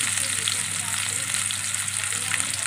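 Potato, stalks and pointed gourd fry in mustard oil, giving a steady, close, continuous sizzle with faint stirring textures throughout.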